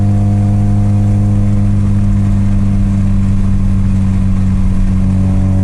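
Loud, constant engine drone from inside a 1990s Opel Kadett cruising in fifth gear on its original factory engine management, steady low harmonics holding unbroken throughout.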